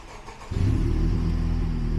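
A Honda car engine starts up after a short quiet moment, turning over and catching into a loud, steady, close idle that runs on without any talking.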